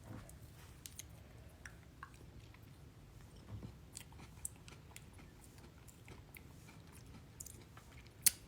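Soft, quiet chewing of raspberry ice cream with golden Oreos, steady wet squishing and light crunches continuing close up throughout with no talking, plus one sharper click near the end.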